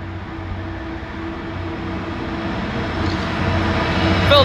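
A British Rail Class 66 diesel locomotive, 66710, rumbling through Lincoln Central station, a steady low engine drone that grows louder toward the end as it draws nearer.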